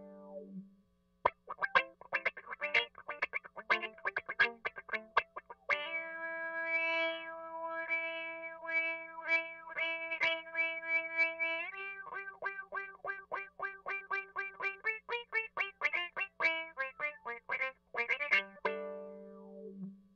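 A fiddle bowed through a Kangra Fuzz envelope filter, played alone in short percussive strokes then sustained notes, giving a quacky, wah-like distorted tone with a steady low hum underneath.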